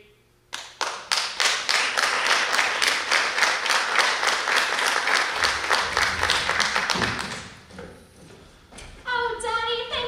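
A school theatre audience claps and applauds through a stage performance of Peter and the Starcatcher, dense, loud clapping filling the room for about seven seconds before fading, then a voice speaks near the end.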